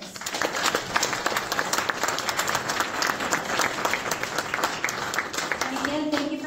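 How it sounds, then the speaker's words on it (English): An audience at a city council candidate forum hosted by a Rotary Club gives the candidates a round of applause, lively crowd clapping with distinct nearby claps, and a voice starts speaking near the end. "a round of applause for your candidates."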